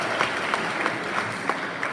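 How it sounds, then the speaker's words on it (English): Audience applause at the Edinburgh Comedy Awards for the Best Comedy Show nominees, a steady wash of clapping from a crowd with a few sharper individual claps standing out. "let's have a round of applause for each of the Best Comedy Show nominees"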